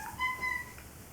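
A house cat gives a couple of short, thin meows close by in a quiet room, over a soft steady background hum.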